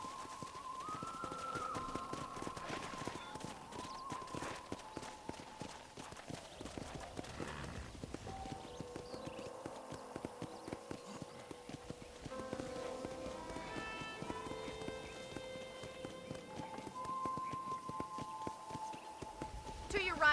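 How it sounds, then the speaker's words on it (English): Horse hooves clip-clop steadily in Red Dead Redemption as a horse is ridden around a ranch, with an occasional whinny, while a voice talks over the galloping rhythm. "let's see if you can still ride a horse"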